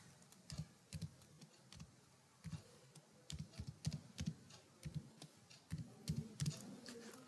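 Keys tapped on a computer keyboard while entering a name, quiet irregular clicks in short bursts with brief pauses, close and fairly soft against a faint room hiss.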